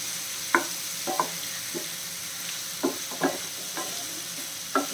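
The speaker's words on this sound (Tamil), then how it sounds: "ஒரு அஞ்சு நிமிஷம் இந்த மாதிரி திருப்பி திருப்பி போட்டு கிளறிப்போம்" Onion chicken frying in a little oil in a pan, stirred and turned over, with a steady close sizzle broken by repeated soft scraping stirs at irregular intervals.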